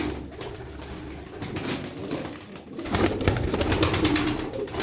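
A female Çorum naked tumbler pigeon, the non-muffed kind, coos in a low, repeated burble over steady background noise that grows louder partway through.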